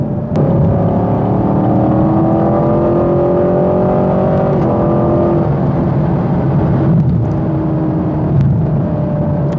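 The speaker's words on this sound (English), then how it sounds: "Ridiculously fast accelerating car." A 2021 Chevy Camaro LT1 accelerates hard, its V8 engine roaring loud and close with a steady climbing drone, brief shift breaks and a continuous heavy growl throughout.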